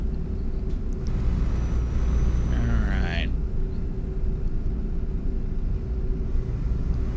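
Volvo FH Classic truck engine in Euro Truck Simulator 2, a steady low rumbling drone with a brief hiss of air release partway through, while a person talks over it.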